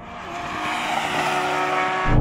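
BMW M4 CSL and Porsche 911 GT3 roaring hard in a second-gear roll-on drag race from 40, a loud sustained engine howl building steadily, with a sharp low-end burst near the end.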